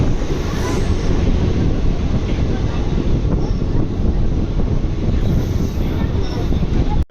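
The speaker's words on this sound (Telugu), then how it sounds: "Sullurpeta Chennai central local train అంటారు" A Sullurpeta to Chennai Central local train of the Southern Railway, heard as a loud, steady rumble and rush of noise that fills nearly the whole stretch before cutting off abruptly at the end.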